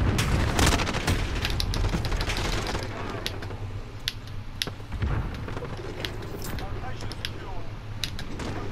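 Gunfire in the video game Call of Duty: Modern Warfare during an online match, with rapid bursts and single cracks of shots near and far alongside mechanical clicks, while players talk over the action.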